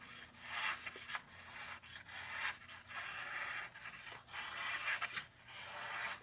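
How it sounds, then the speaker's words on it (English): An M390 steel Vosteed liner-lock knife slices textbook paper, producing repeated soft, close rasping strokes with brief crisp tearing edges, evenly spaced about once a second. "Yeah, obviously it's gonna slice that paper, no doubt about it."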